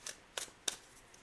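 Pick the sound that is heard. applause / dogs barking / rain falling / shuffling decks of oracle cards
shuffling decks of oracle cards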